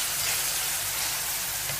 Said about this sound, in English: Here you see, onion has already fried and covered with the so-called golden color.